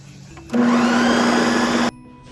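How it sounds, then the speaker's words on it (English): A food processor purees a persimmon jam filling in one loud, steady whirring burst of about a second and a half that starts and stops abruptly, with no voices. "With the food processor, we're going to puree it."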